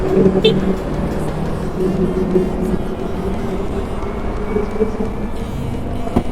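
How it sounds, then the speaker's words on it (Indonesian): Sumber Jakarta buses pulling away along a busy road in Padang, a steady loud rumble of heavy engines and passing traffic, continuous and close throughout. "Pas pula dengan keberangkatan bus-bus Sumber Jakarta nih."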